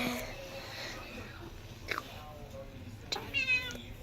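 A cat gives a couple of short, agitated meows near food, fairly close, over low background noise with faint voices.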